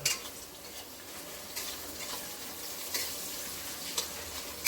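Bay leaves sizzle in hot oil in a pot for Bengali chicken biryani, a steady close frying hiss with faint crackles and occasional stir clinks, no voices over it.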